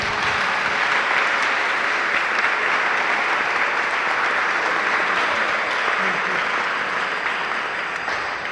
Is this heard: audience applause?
yes